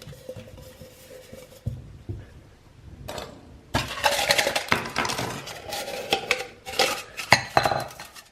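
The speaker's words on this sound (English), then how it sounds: "It has this 750ml outer pot." Metal camping cookware, a 750 ml outer pot set, is handled up close: quiet scraping at first, then bursts of clanking, clinking and rattling as the pieces knock together.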